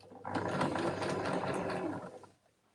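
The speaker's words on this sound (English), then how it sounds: "I'm going to carry on sewing all the way to the other side until I meet my beginning." A sewing machine runs steadily while top stitching a screen-printed fabric gift bag, a close mechanical whir with ticking gear sounds that lasts about two seconds and then stops.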